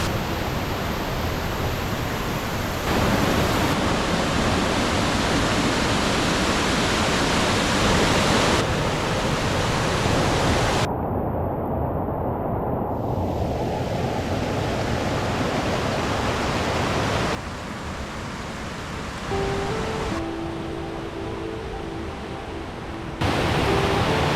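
Waterfall in the Glen Leigh section of Ricketts Glen State Park, a continuous loud roar of rushing water heard close by, steady and broadband with no voices.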